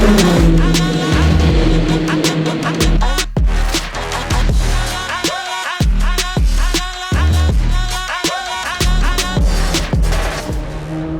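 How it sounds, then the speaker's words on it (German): Le Mans hypercars pulling away on the circuit, their petrol engines firing up after an electric start, a loud, continuous mix of roaring engines and passing cars with sharp bursts and brief dips. "bei den wirklichen Hypercars geht es zuerst im Elektromodus los und dann springt der Benzinmotor an"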